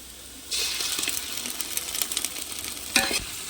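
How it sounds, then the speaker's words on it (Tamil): Onions and ginger garlic paste sautéing in a pan for chicken biryani: a close, crackling sizzle that starts abruptly, with stirring scrapes and a sharp flare of sizzling near the end. "இஞ்சி பூண்டு பேஸ்ட் நல்லா வதங்கிடுச்சு"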